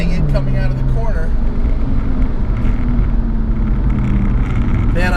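A 400 HP big-turbo Audi A3 2.0T on a racetrack gives a steady, loud engine drone heard from inside the cabin, its pitch rising and falling slightly as the car carries on at speed.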